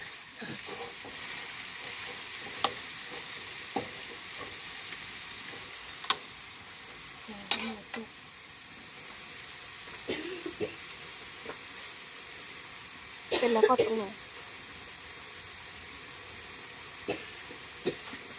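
Pork stir-frying for Thai pad krapow: a steady sizzle and hiss under frequent scraping and clacking of a spatula against the pan, with a louder clatter of stirring near the end, heard alone and close.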